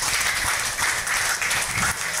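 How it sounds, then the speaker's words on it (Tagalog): A congregation gives loud applause in praise of the Lord during a church gathering, a dense, sustained clapping wash that stays strong and even from start to end. "Isang malakas na palakpak para sa ating Panginoon."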